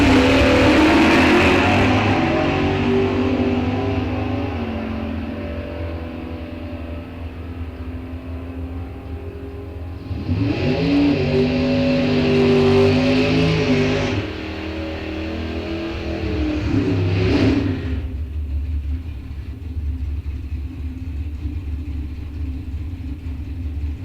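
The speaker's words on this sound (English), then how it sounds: "Cool little roadster now coming up here on the Fast Freddy side" A drag racing roadster at a raceway's ET bracket series gives off a loud, steady engine drone that rises into a harsh revving roar mid-clip, then a second surge and a sustained rumble, with no voices.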